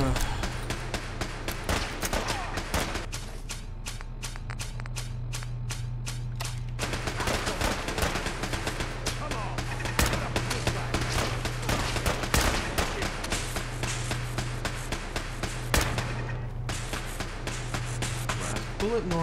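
Rapid automatic gunfire in Fallout 4, a dense stream of close, sharp shots rattling almost continuously with brief breaks, over a steady low hum and some speech.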